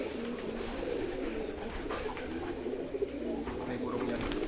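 A kolong racing pigeon coos steadily inside its coop, soft low calls repeating under a continuous background hum with no clear talk.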